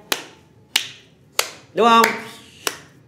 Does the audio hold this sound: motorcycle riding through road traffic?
no